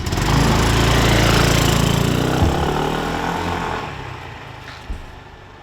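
A 2001 Honda Reflex NSS250 scooter revving loudly up close and then pulling away, its buzzing engine drone steadily fading into the distance.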